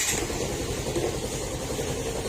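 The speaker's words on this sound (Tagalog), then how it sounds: "yan po yung tunog ng makina niya" A noisy Yamaha M3 125 motorcycle engine idles with a rough, knocking mechanical clatter, a steady close-up putter with no talk over it.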